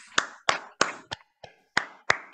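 A lone pair of hands claps on a business networking call, eight crisp, close claps in a loose rhythm with a brief gap partway through, and no voices.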